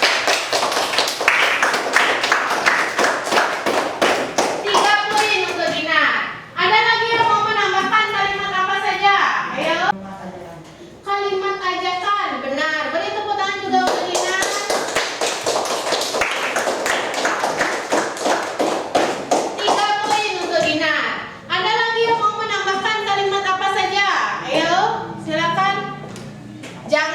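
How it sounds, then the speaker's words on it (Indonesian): Classroom of children clapping hands in bursts of rapid, loud applause, separated by stretches of adult and child speech, close and lively throughout. "Beri tepuk tangan juga untuk Dinar"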